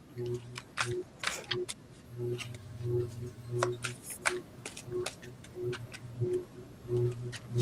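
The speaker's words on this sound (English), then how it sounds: "I'll make sure I give these a good shuffle on my new deck." A new tarot card deck is shuffled by hand, giving a string of quick, close papery riffles and soft taps in irregular bursts over a steady low background hum.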